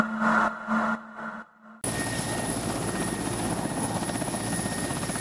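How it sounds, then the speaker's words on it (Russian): A Mi-8 AMTSh military helicopter at an army aviation base gives a loud, continuous rotor and turbine roar with a rapid pulsing beat and a high whine. It cuts in abruptly after a brief tonal passage, with no speech. "поступила последняя партия вертолетов Ми-8 АМТШ, которые еще называют терминаторами"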